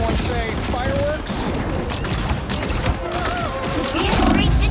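Rapid, dense bursts of crackling fireworks-style explosions from the Marvel Rivals video game, mixed with other game effects and character voices in a busy battle.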